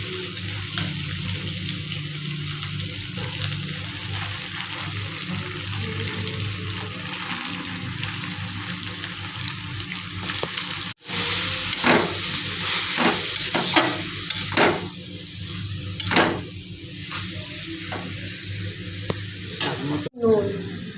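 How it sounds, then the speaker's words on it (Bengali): Ground cumin and other ingredients being sautéed in a frying pan, a continuous close sizzle with repeated scraping stirs and spatula knocks that grow busier in the second half, with no talk. "এটা দিয়ে কষিয়ে নিতে হবে"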